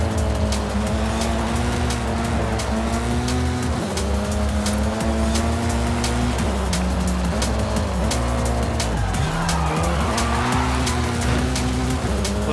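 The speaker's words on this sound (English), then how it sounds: "Little bit of a handbrake turn on that final one there" A racing car in Forza Horizon 5 roars continuously at close range, its engine pitch rising and falling through gear changes, with tire squeal as it makes a handbrake turn.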